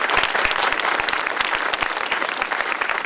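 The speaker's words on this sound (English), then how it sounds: "Give yourselves a round of applause." Applause from a school ceremony crowd, with Adams Middle School students and guests marking a Witness Stone event, as dense, steady clapping that fills the room, loud and close throughout.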